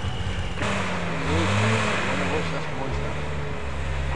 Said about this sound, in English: it's about getting a few revs on and then knocking it into drive